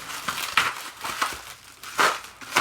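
Shrink-wrap plastic crinkles and tears in repeated bursts as several bundled NuTone service literature binders are unwrapped close by, with no talking.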